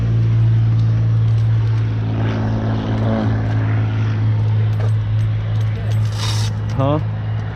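A small propeller plane's loud, steady engine drone during a short-field takeoff, with a low propeller hum, continuous throughout, with brief people talking and small clinks over it.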